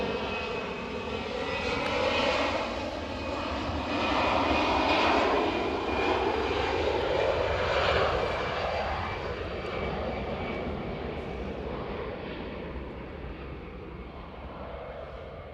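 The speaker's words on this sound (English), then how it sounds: "So Aer Lingus taking their XLR, the A321" An Aer Lingus Airbus A321XLR jet roars at Edinburgh Airport, loud and sustained, swelling and then slowly fading as it passes, with the engine tone gliding downward.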